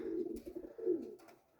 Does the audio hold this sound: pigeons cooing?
yes